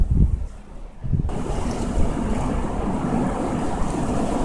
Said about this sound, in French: Il vient d'y avoir une rafale assez impressionnante.